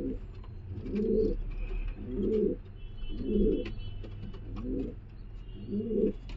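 Giribaz pigeons coo in a regular rhythm, six low throaty bursts about one second apart, close and clear over a faint background hum.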